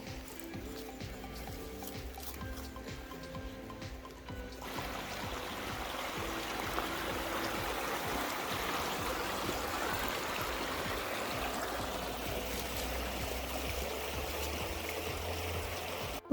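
A natural stream or brook flows outdoors with a steady broadband rush of water that continues throughout and grows fuller after the first few seconds.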